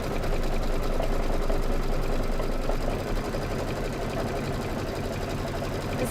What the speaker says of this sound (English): So now we're just gonna be doing a whole bunch of stitching.